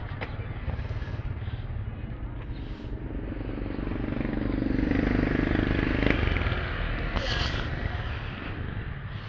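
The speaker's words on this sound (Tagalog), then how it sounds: "Motor ni Tita Ruru gamit natin yan." Motorcycle riding, with a steady engine drone and wind rumble that swells toward the middle and stays close throughout, with faint voices in the background.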